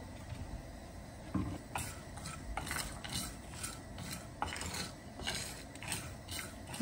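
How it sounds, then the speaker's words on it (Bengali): Poppy seeds and cashews dry roasting in a pan, stirred with a metal spoon: soft repeated scrapes and light clinks, fairly quiet and steady throughout. "পোস্ত আর কাজু বাদাম ড্রাই রোস্ট করা হয়ে গেছে।"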